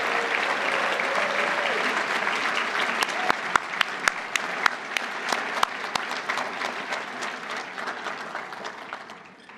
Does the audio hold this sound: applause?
yes